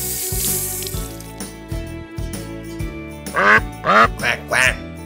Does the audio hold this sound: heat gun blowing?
no